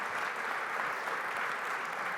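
An audience at a business talk on teams and psychological safety applauds, a steady, dense wash of clapping at moderate level throughout, with no distinct individual claps standing out.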